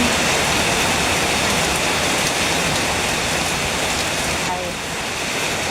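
Heavy rain falls hard in a dense, even roar of drops on surfaces. The sound is loud and constant from start to end, with a faint voice briefly audible in the background.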